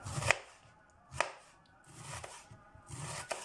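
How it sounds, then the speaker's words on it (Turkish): Knife slicing red cabbage very thinly for a restaurant-style pickled red cabbage, with several separate crisp chopping strokes against a board and quiet pauses between them, no talking. "Olabildiğince ince doğruyoruz."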